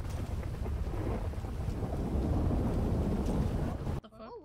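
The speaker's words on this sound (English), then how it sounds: "This is such a scary storm." A heavy thunderstorm in the FiveM video game roars with rumbling thunder and rain for about four seconds, then cuts off abruptly as a brief voice follows.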